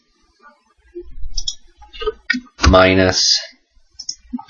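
Keys clatter on a computer keyboard as a spreadsheet formula is entered in Excel, short bursts of clicks separated by pauses, with someone speaking briefly in between.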